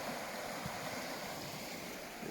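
The Pascoe River on Cape York, at least 1.5 metres deep and flowing hard, gives off a steady, loud, broadband rush of water that sounds close and continuous throughout, with no voices.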